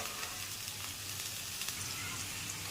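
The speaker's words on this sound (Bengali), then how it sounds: "আলুটা একটু হলুদ আর লবণ দিয়ে ভেজে নেব হালকা করে।" Potatoes frying with turmeric and salt give a steady, dense sizzle that stays even and close throughout, with no voices.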